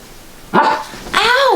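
Max, a pet dog, lets out two close, loud barks or yelps in a quiet indoor room, the second one drawn out and whining.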